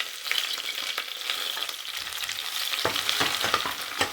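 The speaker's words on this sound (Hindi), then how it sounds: "अब इसमें मैं प्याज डाल दूँगी" Onions sizzle and crackle in cooking oil for matar pulao, a steady close frying hiss with sharper pops and stirring scrapes near the end, no voices.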